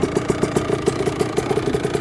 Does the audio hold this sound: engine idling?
yes